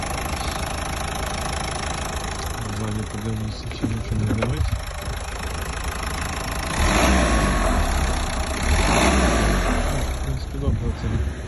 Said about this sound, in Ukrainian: Ну прогазніть парочку разів.